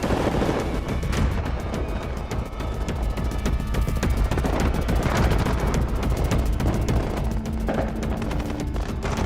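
Dense, continuous gunfire and rapid volleys from a TV drama episode where civilians are being shot while trying to flee, loud and sustained throughout with no talk.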